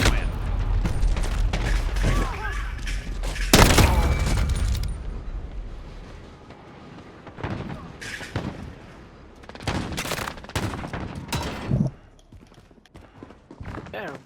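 Video game weapons fire in bursts of gunshots and booms, dense and loud early on, then sparser sharp shots and impacts with a voice talking in between.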